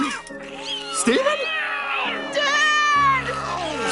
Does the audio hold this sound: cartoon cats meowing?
yes